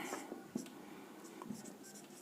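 A pen or pencil scratches across paper in short, faint strokes with small taps, quiet and close by, as someone writes out a geometry lesson on quadrilaterals.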